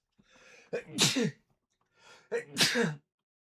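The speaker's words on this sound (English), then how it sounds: "Sneezed all over myself." Two sneezes in a row, each with a short inhaled buildup followed by a sharp explosive burst, close and clear with silence between.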